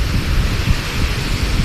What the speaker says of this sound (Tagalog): Malalaki na po ang alon. Padating na po ang bagyo dito ngayon.